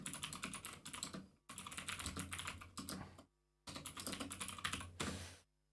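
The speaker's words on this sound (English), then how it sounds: "Clicky keyboards are us." Rapid clicky keystrokes on a mechanical computer keyboard come in three dense bursts, separated by short silent pauses, close and crisp with no talking.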